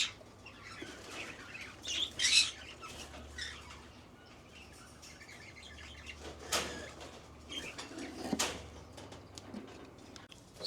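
Pet parakeets in an urban garden setting flutter their wings in short bursts and give faint, scattered chirps, with quiet pauses between the bursts.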